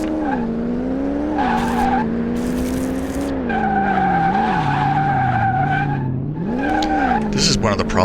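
Tires skid and squeal continuously in Car Mechanic Simulator 2018, with a wavering pitch that rises and falls over a steady engine drone, loud and close throughout.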